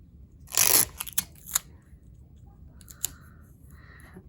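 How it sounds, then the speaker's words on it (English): Tape is torn and pressed onto each side of a paper basket handle for a tulip craft: one loud, ripping burst near the start, then a few short crackles and faint taps against quiet, with no talking. "I'm just going to use a piece of tape on each side."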